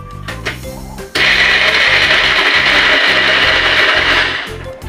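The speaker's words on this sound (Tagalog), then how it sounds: "akin ang umpisang mag-grind ng sibuyas at bawang" An electric grinder chops onion and garlic together. A brief rattle comes first, then the motor kicks in with a loud, steady whir and a rhythmic chopping churn that runs to the end.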